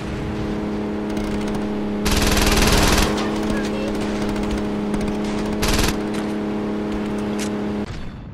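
Gunfire in the video game Saints Row 2, two loud bursts of rapid shots cutting over a constant droning engine and music bed, with a brief rev in between.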